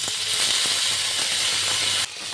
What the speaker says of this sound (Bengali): যে সজনে ফুলগুলো আমি ধুয়ে রেখেছিলাম পরিষ্কার করে, সেগুলো দিয়ে দিচ্ছি।